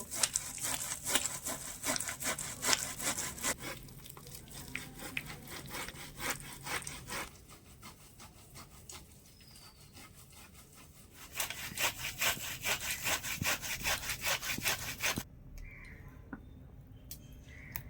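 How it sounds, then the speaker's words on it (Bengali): Palm fruit seeds rubbed against a grater, a close scratchy rasping in rapid repeated strokes, coming in bursts with short quieter pauses between them. "এবারে একটা গেটারের সাহায্যে আটিগুলো ঘষে নেব"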